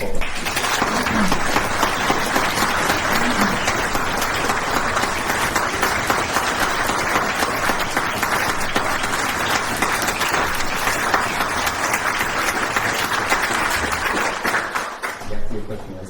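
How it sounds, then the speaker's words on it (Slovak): An amateur theatre audience gives a long, hearty round of applause in tribute to a deceased member, a dense and steady clapping that fills the room for about fifteen seconds before tapering off. "poslať nie minútu ticha, ale jeden taký výdatný potlesk"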